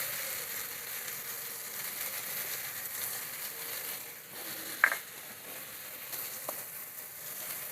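Prawns sizzle in a pan with fried potato and pumpkin, giving a steady, fairly quiet crackle with a couple of brief clinks.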